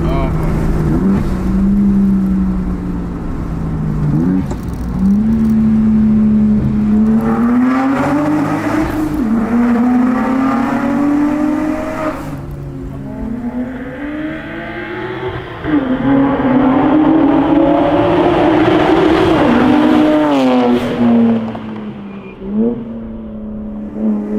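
A loud turbocharged BMW 135i engine of over 400 hp revs up and down repeatedly through the gears, echoing inside a tunnel, with a voice talking over it at times.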